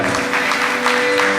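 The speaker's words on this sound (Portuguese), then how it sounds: "Aplauda o Senhor" Applause from a church congregation during a sermon, a steady wash of clapping heard alone with a sustained musical tone underneath, no one speaking over it.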